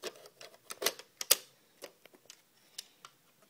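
Light plastic clicks from a Zombie Strike Sledgefire toy blaster as a shell is loaded, an irregular run of small ticks and snaps with two sharper clicks early on, close and fairly quiet with no talking.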